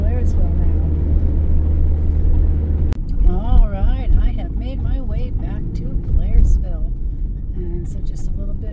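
Car driving on a road near Blairsville, a low steady engine and road rumble throughout, with a person talking over it for most of the stretch.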